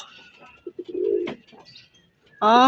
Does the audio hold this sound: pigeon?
yes